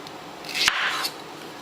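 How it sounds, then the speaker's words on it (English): A knife makes a single short, soft slicing cut as it trims the tip off a plantain, heard close up in a quiet kitchen. "So you want to go and cut the tips"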